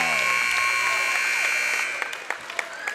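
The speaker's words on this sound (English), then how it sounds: "And the buzzer sounds, and we've reached the intermission." Loud sustained electronic buzzer at an eighth-grade boys' basketball game, sounding for about two seconds before cutting off, followed by crowd noise and scattered claps in a gym.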